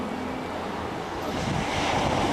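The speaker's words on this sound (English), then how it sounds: "The waves breaking down below," Ocean waves break below a deck in Hawaii, a continuous broad wash of surf that swells slightly louder toward the end, with no voices.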